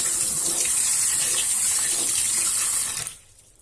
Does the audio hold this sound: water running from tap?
yes